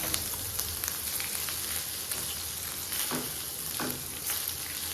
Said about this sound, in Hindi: पेस्ट शामिल करने के बाद आप 30 सेकंड के लिए इसे मज़ीद फ्राई करेंगे